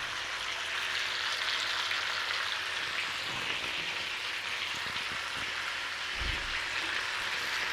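Pork chops fry in a pan with a steady, bright sizzle that runs throughout, close and even, with a few faint knocks against the pan.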